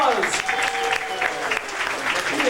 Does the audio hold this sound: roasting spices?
no